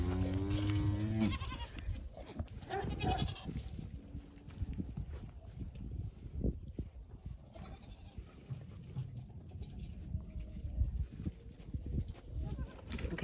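Goats on a farm, does among them, bleat in short nasal calls scattered through the scene, some near and loud, others fainter, with rustling and hoof movement in between.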